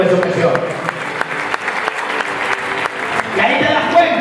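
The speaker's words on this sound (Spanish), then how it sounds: "Denle un fuerte aplauso a la maestra." A church congregation applauding during a Bible study, a dense burst of clapping from many hands in an indoor hall, with voices speaking over it.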